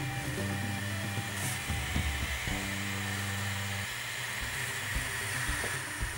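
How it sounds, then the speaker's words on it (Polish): Small active cooling fan of a cheap 18650 battery tester whirring steadily up close, a constant airy hiss under low electrical hums and faint clicks. "Aktywne chłodzenie jest jednak trochę hałaśliwe. Zobaczmy, ile wynosi natężenie dźwięku przy samym wentylatorze."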